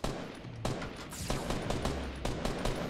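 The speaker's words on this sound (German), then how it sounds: "Ja, da hinten wird aber auch geschossen." Distant gunfire in a Fortnite Battle Royale 50 vs 50 match, scattered shots and short bursts spread across the clip at moderate level with no talk over them.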